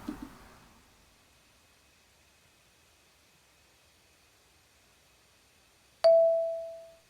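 A single bright chime rings out loudly after a long near-silence, its tone decaying slowly over about a second; it is the event notification on a VATSIM online flight simulation network during an X-Plane 11 session, with faint rustling at the start.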